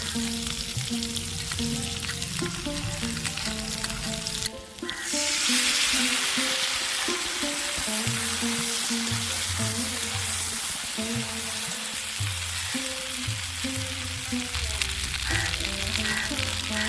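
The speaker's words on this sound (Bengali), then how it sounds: "এবার এতে আমরা পোস্ত বাটা দিয়ে দেবো পোস্ত বাটা দিয়ে দিচ্ছি" Ground poppy seed paste sizzles and fries in hot oil in a pan with vegetables for dudh shukto, giving a steady loud crackle with stirring and a sudden burst of louder sizzle partway through.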